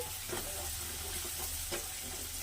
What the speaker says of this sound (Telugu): ఇది పచ్చివాసన పోయేదాకా వేయించుకోవాలి